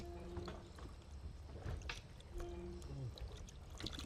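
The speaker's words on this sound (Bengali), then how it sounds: "আমরা এবার হচ্ছে মিষ্টি পানি দিয়ে ওয়াশ দিচ্ছি" Golda prawns are rinsed in fresh water in the Sundarbans, giving faint, irregular splashes and pours against soft outdoor background noise.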